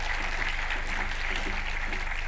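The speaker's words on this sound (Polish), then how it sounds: "Duże brawa." Steady applause from the audience at a city awards gala in Bolesławiec, a dense even patter of many hands lasting a couple of seconds with no voices over it.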